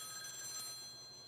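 A telephone rings inside a video game as a faint, steady electronic tone that lasts only a moment, with no talking.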